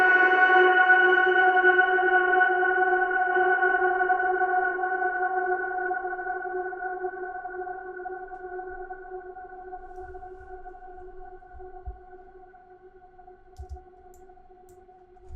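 A melodic sample with reverb, resampled in Ableton, holds a sustained tonal chord that rings out and slowly decays over a long tail, with a few faint low bumps near the end.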